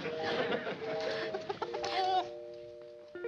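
A bantam rooster clucks and chatters close by in a TV sitcom, a run of throaty bird calls ending in a louder squawk against a faint steady hum.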